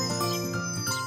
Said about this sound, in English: No, it's a wind chime.